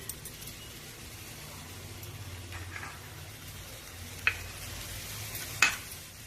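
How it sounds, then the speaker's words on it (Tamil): Grated carrot frying in ghee in a pan, a soft steady sizzle with gentle stirring and scraping, plus a couple of sharp ticks from the spoon against the pan. "துருவின கேரட்டை இதில் போட்டு பச்சை வாசனை போகிற வரைக்கும் நம்ம அதை நம்ம நல்லா ஃப்ரை பண்ணணும்"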